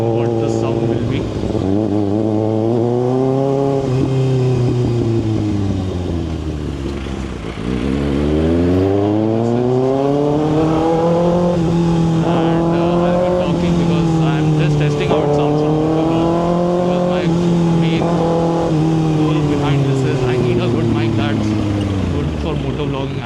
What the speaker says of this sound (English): But maybe if you're cruising at 70, 80, then what the sound will be.